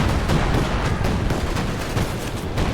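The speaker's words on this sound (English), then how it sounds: "And another artillery barrage." An artillery barrage of 105 mm shells in a real-time strategy game, a continuous loud roar of overlapping blasts and rumbling impacts with no let-up and no talking.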